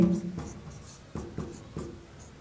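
Chalk or marker writing a formula on a board: a few short scratchy strokes in quick uneven rhythm, close and clear, with a brief voice at the start.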